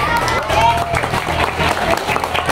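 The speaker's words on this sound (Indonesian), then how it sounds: "tepuk tangan dulu" Schoolchildren of grades 5 and 6 clap together during an outdoor class quiz outing in Makassar, a dense, steady patter of applause mixed with excited voices and crowd chatter throughout.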